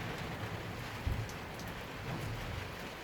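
Steady rain pours down in a dense, hissing wash, with a low thud partway through and no voices.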